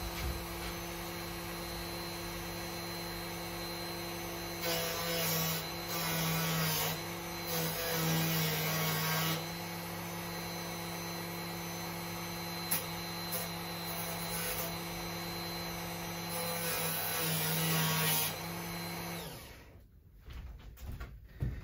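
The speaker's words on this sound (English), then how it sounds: "Now this is a bit too much left over, so I'm going to use the Dremel on both ends." A Dremel rotary tool trims the fret ends on a Washburn acoustic guitar during a refret, with a constant high whine under bursts of louder grinding. There are two longer runs and a short final pass before the tool spins down.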